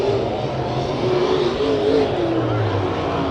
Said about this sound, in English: Final lap for the first heat race of the Pro Stocks.